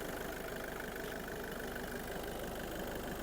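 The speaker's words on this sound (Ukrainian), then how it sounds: "Двигун працює чудово, оберти нас не плавають, рівненько працює" A Skoda Superb engine idling smoothly and evenly, a steady close rumble at constant revs with no surging, alone with no talk.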